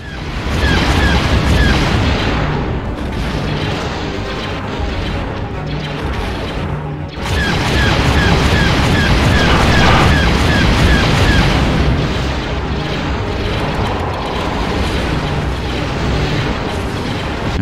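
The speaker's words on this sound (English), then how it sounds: "The transports are launching torpedoes." Transports launch torpedoes in the space combat game TIE Fighter, a dense barrage of loud booms and mechanical blasts that runs continuously with a brief dip midway.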